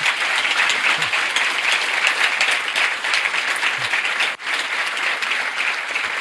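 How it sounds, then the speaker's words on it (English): Steady audience applause fills a lecture hall after a talk on the risks of the next century, a dense continuous wash of many hands clapping with a brief dip near the end, no voices over it. "we as an audience owe Professor a big round of thank you or ačiū applause"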